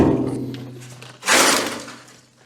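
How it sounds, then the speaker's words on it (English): Rusty fuel tanks from an abandoned Datsun Cedric 130 Wagon are thrown down a bramble-covered slope, making a single loud hollow thud and crash that trails off into rustling. "Let's try throwing some fuel tanks into the abyss."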